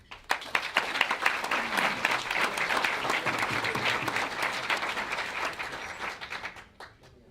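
Audience applause welcoming a guest speaker at a chapter lunch program, sustained steady clapping from a room of people for several seconds before tapering off.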